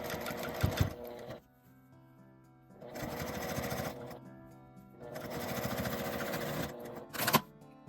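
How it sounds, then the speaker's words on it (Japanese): A sewing machine stitches a makeup bag in three steady whirring runs of a few seconds each, separated by quiet pauses and ending in a short burst, close by with no talking. "こちらも同じように押さえてから外して縫います。"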